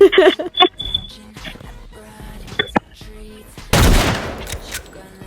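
Gunfire in a sniper duel video game, shots and beeping effects early on, then a loud blast-like burst near the end, heard at close range with players' voices over the game audio.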